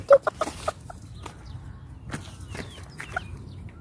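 Chickens cluck outdoors near a campfire, a quick run of close, sharp clucks at the start followed by scattered softer clucks and rustling over a steady low background.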